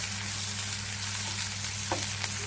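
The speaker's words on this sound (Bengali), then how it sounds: "পেঁয়াজটাকে আমি ভেজে নেব।" Chopped onions fry in oil in a pan for tengra fish chochori, a steady dense sizzle that stays close and even throughout, with a couple of faint stirring scrapes and no talk.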